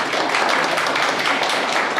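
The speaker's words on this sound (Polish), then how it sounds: "Brawa." Brief burst of audience clapping at a children's reading contest and Librarian's Day prize ceremony in a village library, loud and close, with no talking.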